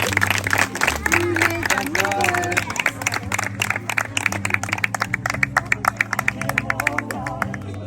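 Wedding guests applaud the newly married couple, rapid close clapping from a crowd that grows sharper and more rhythmic over time, layered over music and chatter.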